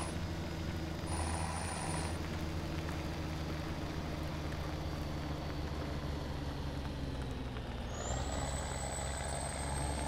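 Truck engine drones steadily in Farming Simulator 17 on a large grain farm, with short high air-brake hiss tones near the start and again late, continuous and fairly loud with no talk.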